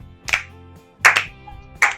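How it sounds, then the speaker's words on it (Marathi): Hand claps from a few people clapping along to singing, three separate clap bursts spaced about three-quarters of a second apart, close and crisp over a faint tonal background. "आपलं थोडं टाळ्या वाजवत काहीतरी गाणी बिणी गायचं असं चाललंय"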